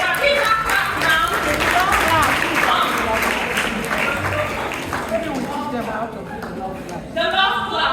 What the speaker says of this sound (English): Give her a clap now.